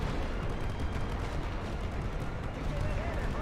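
Artillery batteries shelling in the WWI strategy game The Great War: Western Front, a dense rumbling barrage of booms and distant blasts with a voice talking over it.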